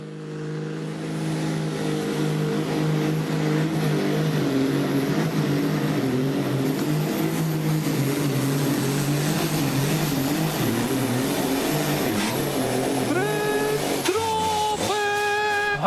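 Six Fighter pulling tractor roaring through a run at a European tractor pulling championship event in Made, a loud sustained multi-engine drone with rising harmonic whine that surges and sputters near the end.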